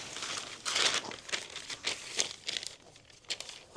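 Fabric pieces rustle and crinkle as they are folded together and handled before cutting, soft close-up bursts of crumpling at an irregular pace.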